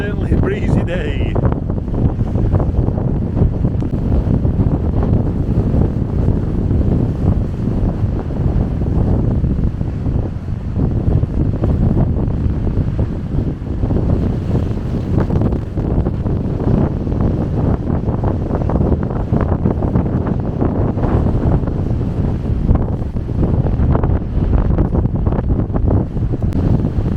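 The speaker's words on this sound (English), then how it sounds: "Yes, it's certainly a breezy day." Strong wind buffets the microphone steadily on the coast at Trearddur Bay, a loud continuous roar with surf-like rumble underneath and no break throughout.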